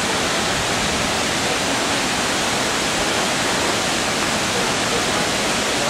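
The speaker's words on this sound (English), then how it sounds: "That's the waterfall." The waterfall at Hamilton Pool, Texas, roars in a steady, dense wash of falling water that stays loud and unchanging throughout, with no voices.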